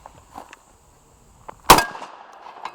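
A Hatsan BTS 12 gas-operated bullpup shotgun fires a single 12-gauge shot, a sharp, loud report with a ringing tail, after a few faint clinks and knocks.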